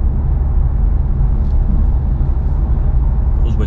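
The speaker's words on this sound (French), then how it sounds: "Je ferme l'échappement, ça m'enlève une petite résonance." A BMW M2 cruising on the road with its exhaust valve closed, heard from inside as a steady, loud low engine and road rumble with no distinct revs or changes.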